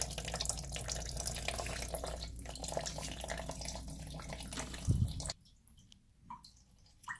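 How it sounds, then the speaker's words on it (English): Water draining out of a toilet tank during a DIY fill valve replacement, a steady gurgling rush close by that cuts off abruptly, followed by a few faint drips in near silence. "that's going to drain the rest of the water out"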